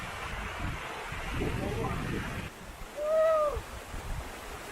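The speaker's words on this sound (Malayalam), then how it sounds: "ഇതാണ് ഈ വെള്ളച്ചാട്ടത്തിൻ്റെ തുടക്കം" Water rushes with a steady broadband roar at the top of Aruvikkuzhi waterfall in Idukki, heard from nearby with a brief whistling tone and some voice.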